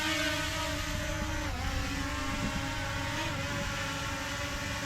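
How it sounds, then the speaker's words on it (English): A Bwine F7MINI camera drone's motors spin up and lift it off, a steady close whine with rising pitch that holds level through a brief dip, filling the whole stretch with no talk. "that starts your drone. That raises it up"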